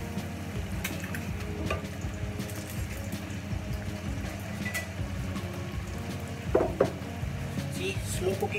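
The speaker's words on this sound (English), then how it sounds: "slow cooking fried egg" An egg fries slowly in a pan, giving a low, steady sizzle and crackle that runs throughout at modest volume, with a brief clatter near the end and faint talk in the background.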